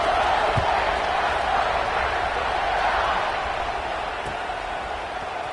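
A stadium crowd at a college football game during a kickoff roars in a broad, sustained wash of cheering and whooping, steady at first and easing slightly toward the end.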